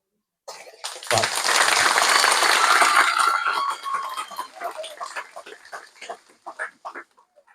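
Audience applause at a ceremony honoring religious sisters, starting abruptly, swelling into dense steady clapping, then thinning into scattered individual claps as it fades.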